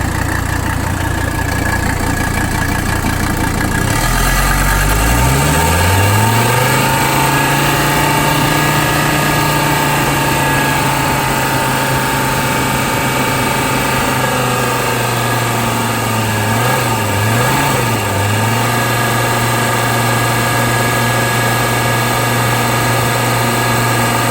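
A 1985 Mercedes 300D diesel engine idles steadily and close, with a brief dip and recovery in pitch early on, then a continuous even clatter and hum throughout.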